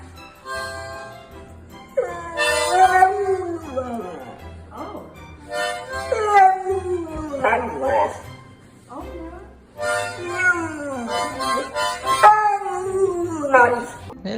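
A dog barks and howls in a home, with repeated rising and falling wails under and between the close voices of people talking throughout.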